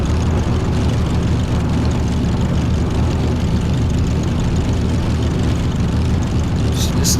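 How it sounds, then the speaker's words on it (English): A 1906 Renault racing car in Assetto Corsa, its engine a loud, constant, rough low roar that holds steady throughout with no break. "Just listen to that engine roar."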